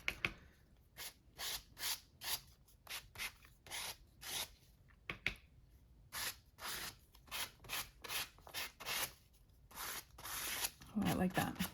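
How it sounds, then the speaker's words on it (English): A palette knife scrapes paint across a journal page in a regular series of short, rasping strokes, close and fairly crisp, each pass separated by a brief pause. "Start scraping."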